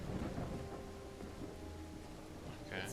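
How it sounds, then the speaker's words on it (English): Steady rain patters in the video game Call of the Elder Gods, with low rumbling thunder rolling underneath as a continuous stormy backdrop. "It's raining cats and dogs here."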